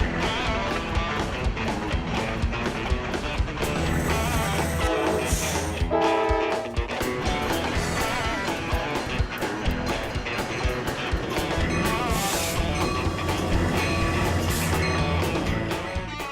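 Trains in Chicago's railroad scene, a loud continuous blend of rumbling rail cars and drawn-out horn blasts, with music layered over it throughout.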